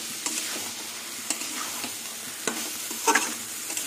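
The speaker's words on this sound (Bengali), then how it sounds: "এবার কিছুক্ষণ কষিয়ে নেব।" Spices with hot chili powder and ground green chilies are sautéed in a pan, a soft steady sizzle broken by a handful of sharp spatula scrapes and taps at irregular intervals.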